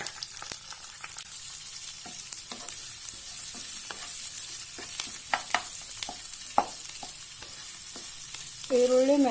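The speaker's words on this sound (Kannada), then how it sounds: "ಈರುಳ್ಳಿ ಮೆತ್ತಗಾಗುವವರೆಗೂ ಫ್ರೈ ಮಾಡಬೇಕು" Onions and curry leaves fry in a pan with a steady close sizzle, broken by scattered clicks and scrapes of a spatula and a louder stirring scrape at the end.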